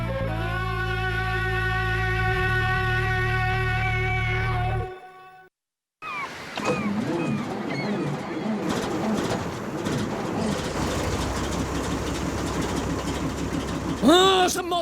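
Cartoon engine in an animated series chugging with a steady, buzzy harmonic drone, cutting out abruptly to near silence, then sputtering back with cluttered rattles and squeaky, bird-like chirps, close and loud.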